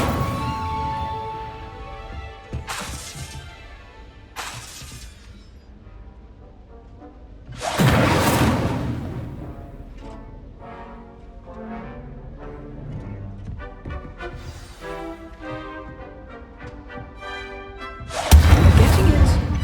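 A spell cast in Hogwarts Legacy sets off several loud whooshing fire bursts and impacts. One big burst sits mid-clip, a strong blast closes it, and lighter hits fall between under a steady game backdrop.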